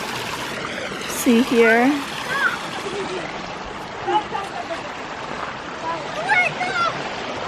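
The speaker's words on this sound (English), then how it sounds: "Came down to a little river." A small river flows in Eaton Canyon, a steady wash of running water close by, with voices talking over it and a few brighter calls rising above the stream.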